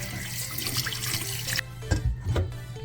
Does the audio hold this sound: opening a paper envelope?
no